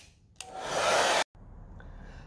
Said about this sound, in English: You can either let it dry or take a blow dryer and dry it.